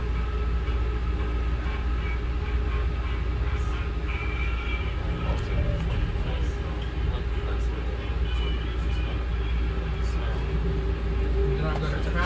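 Amtrak train picking up speed, a steady, loud rumble of wheels on rails with broadband rolling noise from inside the car and faint passenger voices underneath.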